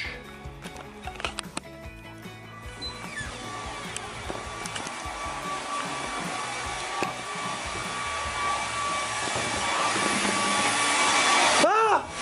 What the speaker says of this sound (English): Turn off the blow dryer.